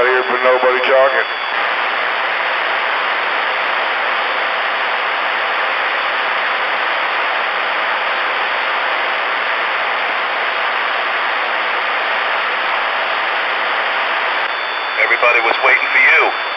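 Static hisses steadily on an open channel of a Stryker SR-447 radio, a loud, unbroken wash of noise lasting about thirteen seconds, with brief bursts of voice at the very start and end.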